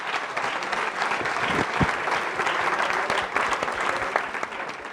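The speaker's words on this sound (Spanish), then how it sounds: "Les pido un aplauso para ellos." An audience at a forum on religion and government applauds the panelists at the close of a discussion, a sustained, fairly loud roomful of clapping with no speech over it.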